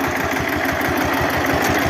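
A Lider 220D tractor engine labours while pulling a disc harrow in freshly worked soil, a loud, steady, rhythmic diesel throb with a rapid pulsing beat and no voices.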